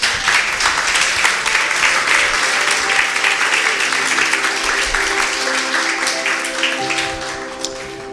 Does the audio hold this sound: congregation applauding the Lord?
yes